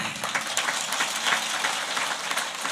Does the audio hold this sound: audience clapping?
yes